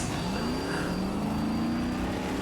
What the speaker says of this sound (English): Why is the car making that noise?